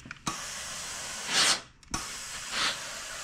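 A steam iron pressing quilt star blocks gives two separate hissing bursts of steam, each starting with a soft thump as the iron is set down. No voices are heard.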